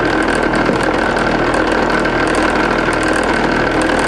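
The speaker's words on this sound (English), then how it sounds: "then you put it on the buffing wheel" A one-inch-wide buffing wheel loaded with jeweler's rouge spinning steadily while guitar frets are polished, a constant close motor whir and hum with no break.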